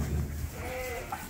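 A sheep on a farm at night gives a short wavering bleat, fairly close, over a dense background rumble and hiss.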